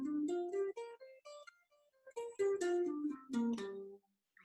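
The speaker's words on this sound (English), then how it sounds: "So that would be a pentatonic scale." A minor pentatonic scale played note by note on a pitched instrument, rising then falling in a quick run with clear, distinct tones and short gaps between phrases, no talking.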